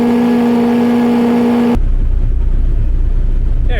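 Radiator cooling fan on a K20-swapped Honda Civic kicks on partway through, a sudden loud, steady whooshing roar replacing a quieter hum with a tonal whine, continuing close to the microphone.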